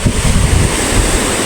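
A strong river rushes steadily nearby, a dense, loud, continuous roar of water with a windy hiss and no pauses.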